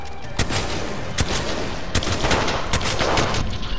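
Mastiff shotgun blasts in Apex Legends, a rapid string of loud, punchy shots in irregular rhythm, close and dense, with other gunfire layered underneath.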